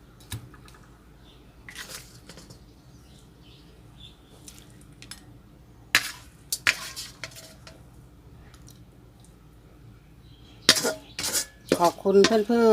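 Utensils scrape and clink against a pan and dishes while stir-fried enoki mushrooms with shrimp and pork are scooped out to serve, in sparse, fairly faint bursts over a quiet background, growing busier toward the end.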